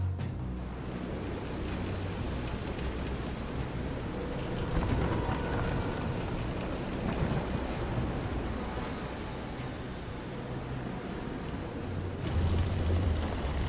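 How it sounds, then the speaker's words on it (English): A storm at sea in the video game Visions of Mana, with steady heavy rain and crashing waves forming a dense, loud roar with deep thunder rumbles swelling underneath throughout. "This is some storm."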